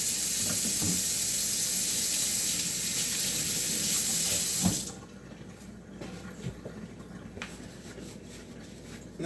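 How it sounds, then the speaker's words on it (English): Water runs steadily from a kitchen tap during handwashing while preparing a veggie bagel, a loud continuous hiss for about five seconds that cuts off abruptly, followed by faint clicks and handling noises. "Let me wash my hands real quick."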